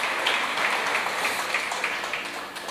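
Worshippers at an evangelical church service clap together in a sustained, even round of applause that fills the room and tapers slightly at the end.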